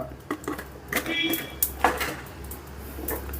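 Coriander seeds and cumin are dry-roasted in a pan, giving close, light rattling and scraping with a few sharp clicks of a spoon against metal, over a low steady hum and a faint voice.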